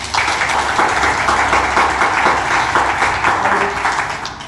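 Church congregation at a prophetic service applauding and cheering for Jesus Christ, with loud, dense, continuous clapping that holds steady throughout and voices mixed in.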